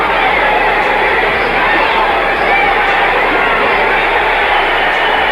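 A boxing crowd reacts at the Muhammad Ali vs Quarry fight, a loud, dense, continuous roar filling the arena without a break from start to end.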